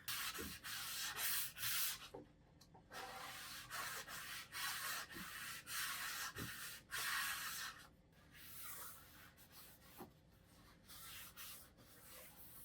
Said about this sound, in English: I don't know if that's just because there's still some stuff left over and I need to keep sanding